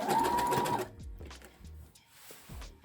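Domestic sewing machine stitching elastic onto knickers, a fast close whirring burst for under a second, then stops, followed by faint handling knocks and fabric rustles.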